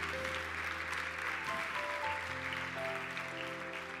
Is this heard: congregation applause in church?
yes